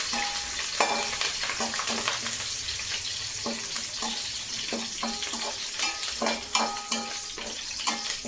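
Garlic and curry leaves fry in a pan with a steady sizzle, broken by frequent scraping stirs and light clinks of a utensil against the pan.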